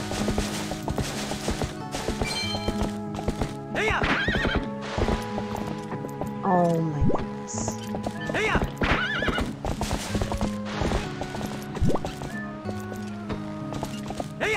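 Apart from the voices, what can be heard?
horse neighing and galloping in video game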